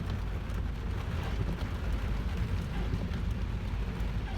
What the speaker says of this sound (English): At least it's just rain.